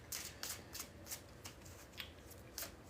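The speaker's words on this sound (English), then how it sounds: "3 more shuffles. Yep, right about now." Tarot cards being shuffled in a steady rhythm of crisp riffling bursts, close and fairly quiet, with no talking.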